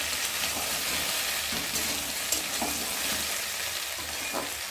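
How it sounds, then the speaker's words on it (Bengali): Taro and potato pieces fry in a covered pan of oil, giving a steady, dense sizzle with faint crackles throughout, close and even, with no talking. "তো দেখতে পাচ্ছ কচু আলুটা ভালো করে ভাজা ভাজা হয়ে গেছে।"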